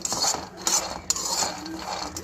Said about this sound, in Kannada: ಇವಾಗ ನಾನು 1 ಕಪ್ ಶೇಂಗಾನ ಹುರ್ಕೊಳ್ತಾ ಇದ್ದೀನಿ. ಇದನ್ನು ಆದಷ್ಟು ಮೀಡಿಯಮ್ ಫ್ಲೇಮ್ನಲ್ಲೇ ಇಟ್ಟು ಹುರ್ಕೊಳ್ಬೇಕಾಗುತ್ತೆ.